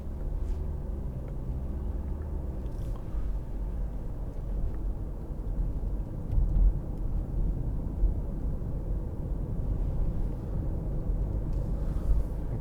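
Steady low engine and road rumble inside a 2015 Mercedes-Benz C200 C-Class 1.6 while it drives along the road, continuous and even throughout with no talking.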